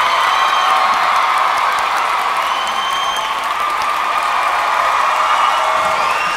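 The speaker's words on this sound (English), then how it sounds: "can I have a round of applause for Mr. Gary Oldman" Big audience bursts into sustained loud applause with cheering and whoops, a dense continuous roar of clapping filling the hall for several seconds.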